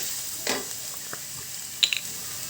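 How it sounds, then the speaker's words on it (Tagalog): Potatoes and carrots pan-frying in cooking oil: a faint, steady sizzle with a soft stirring scrape and a couple of brief metallic clinks. "Pan-fry na natin ang potatoes, carrots."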